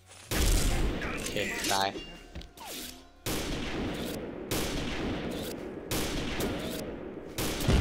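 Gunfire in the sniper game XSHOT: loud, repeated booming shots and bursts in irregular clusters, with someone talking briefly in between.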